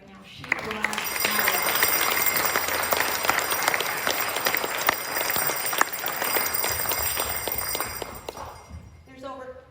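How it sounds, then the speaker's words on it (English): An audience at a closing ceremony breaks into a sustained round of applause lasting most of the time, with a few voices and cheers mixed in before it tapers off near the end. "I'd like you to all give a round of applause for Debbie right now."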